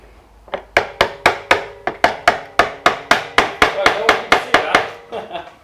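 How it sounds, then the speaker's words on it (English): A cheap chisel is struck to chop down the back wall of a dovetail in wood: about fifteen sharp, close mallet knocks in a fairly even rhythm, then a few softer taps at the end. "So chiseling down that back wall and getting it lovely and flat."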